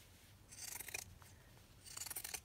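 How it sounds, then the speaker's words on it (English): Scissors trimming along the seam of a bubble wrap envelope, two brief bursts of crisp snipping and rasping close by, quiet and without speech. "I'm going to just trim along the seam as well."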